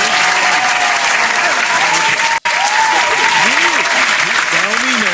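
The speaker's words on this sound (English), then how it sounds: "Let's give a big round of applause for that." Loud, dense applause fills a podcast session, with whoops and whistles riding over the clapping and a brief dropout partway through.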